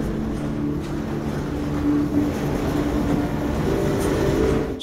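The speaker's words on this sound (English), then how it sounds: "It's a train coming over top, that's what it is" A low rumbling train passes close by overhead in Half-Life 2, a continuous heavy roar with faint rattling that holds steady for several seconds.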